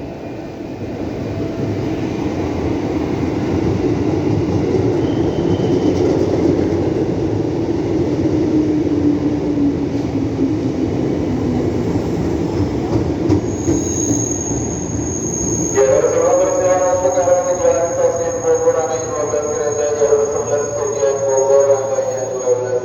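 A KRL commuter train rumbles steadily close by at Manggarai station, then its brakes squeal in a long, tonal screech as it slows to a stop.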